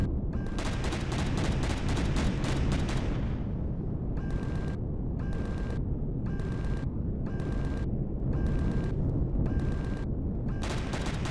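Large cannon drone attacking in the sci-fi survival game Empyrion Galactic Survival: a rapid stream of heavy cannon shots, then repeated bursts of fire in a regular rhythm over a constant loud engine rumble.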